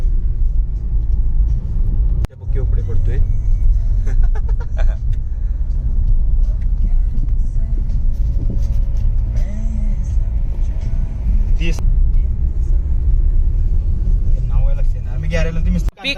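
Steady low rumble of road traffic, with cars and engines droning continuously in a jam on the way to a wedding, while people talk over it throughout.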